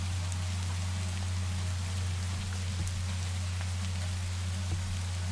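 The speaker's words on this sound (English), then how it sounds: "We're having rain." Steady, even rain pattering throughout the Minecraft video game world, a constant dense hiss with a low hum beneath it and no voices.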